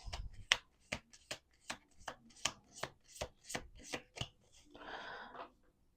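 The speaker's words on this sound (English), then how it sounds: "One more shuffle." A run of sharp, evenly spaced clicks from cards being handled, ending in a quick riffling flutter as the deck is shuffled, close and quiet.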